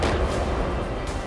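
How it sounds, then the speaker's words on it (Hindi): Explosions from a missile and sea drone attack on the Russian Black Sea Fleet at Sevastopol, heard as a dense, rumbling blast with a sharp burst near the end, loud and close in the recording. "यहां कम से कम 7 धमाके सुनाई दिए"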